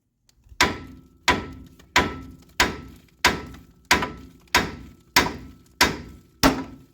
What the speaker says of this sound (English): a hammer, like right there on that spindle